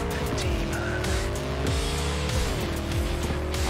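Motorbike ride in Cyberpunk 2077, a steady loud engine drone with shifting pitch and tire noise, continuous and close throughout.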